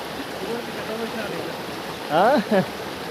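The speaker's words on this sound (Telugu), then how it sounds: "ఓకే మేము వాటర్ ఫాల్కి వచ్చేసాం సక్సెస్ఫుల్గా" Forest waterfall and stream, a steady distant rush of flowing water filling the background, with a short burst of voices near the end.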